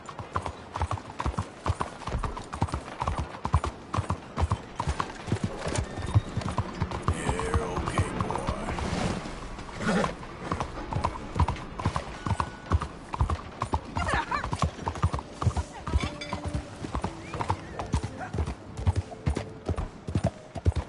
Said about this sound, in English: ¡Arre, caballo!